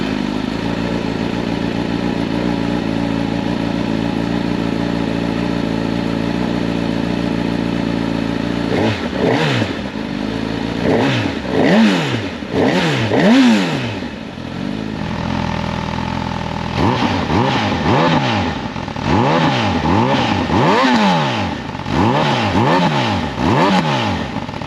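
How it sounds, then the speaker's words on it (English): A 2025 Honda Hornet CB1000 SP motorcycle engine idles steadily, then revs up repeatedly in sharp bursts, close and loud, settling back between throttle blips. "we're going to see how the bike sounds. We'll start it up now."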